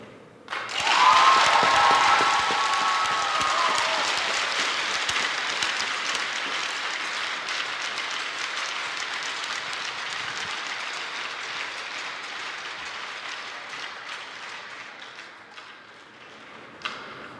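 Crowd at a high school girls hockey game between White Bear Lake and East Ridge cheering and roaring in an arena, loud at first and then settling into a sustained wash of noise.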